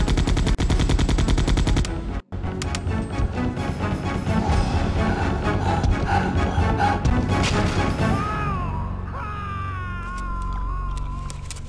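Gunfire in the Resident Evil 2 (2017) video game: rapid, loud bursts of automatic shots and crashing impacts. A brief break comes early, and the shots thin out toward the end under sustained tonal effects.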